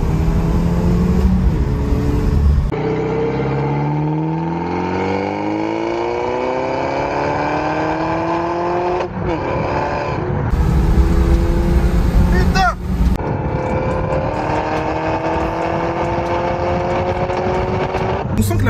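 A Peugeot RCZ R sports car accelerates hard onto a motorway, its engine note climbing through the gears in rising sweeps with brief dips at each shift, loud and close from inside the cabin with speech over it.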